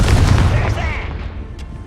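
A Confringo fire spell explodes in the Hogwarts Legacy video game, a loud, heavy booming blast with rumbling low end that decays over about two seconds, with no talking over it.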